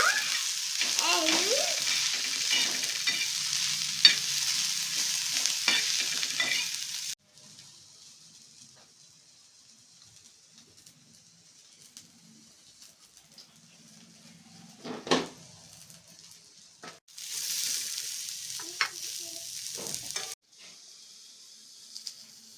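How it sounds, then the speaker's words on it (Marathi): Onion, garlic and ginger frying in a pan for crab biryani, a bright hissing sizzle that cuts off abruptly, leaving quiet with faint clinks, then returns in a short burst. "बघा कांदा आपण परतून घेतलाय लसूण आहे आणि आला टाकवलाय"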